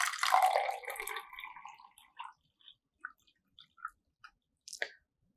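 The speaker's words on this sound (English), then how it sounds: "So what I'm going to do is I'm going to pour some water." Water poured into a glass container, starting as a loud close gush that thins out over about two seconds, then a few separate drips and clinks against the glass.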